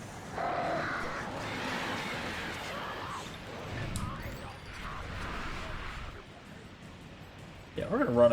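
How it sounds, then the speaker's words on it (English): Crows cawing in Alan Wake Remastered, harsh calls mixed into a dense game soundscape with rushing noise and someone talking over it. "oh god, it's the crows!"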